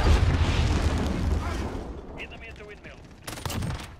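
FR 5.56 FAMAS rifle gunfire in the video game Modern Warfare, dense rapid bursts with heavy low booms fading into scattered crackling, with a second short burst near the end and no talk over it.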